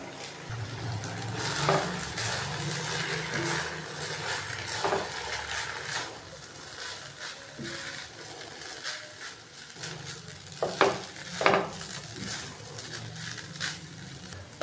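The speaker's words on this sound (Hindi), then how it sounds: "तो अभी मैं इन दोनों चीज़ों को अच्छे से मिक्स कर दूंगा।" Chicken fajita and boiled rice being stirred together in a pan, with soft sizzling under repeated scraping and clinking of a spoon against the metal, irregular strokes at close range and no speech.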